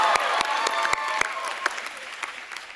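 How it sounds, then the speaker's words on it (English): Applause from a commencement ceremony audience for a student co-president, with individual claps standing out distinctly and gradually thinning as the clapping fades. "Let's give a round of applause for Sui, guys, come on."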